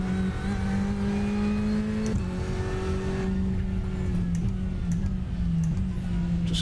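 Ferrari 488GTE race car engines in an iRacing GTE endurance race at Sebring, a loud, steady close engine drone with pitch shifts through gear changes and other cars alongside, with no talking.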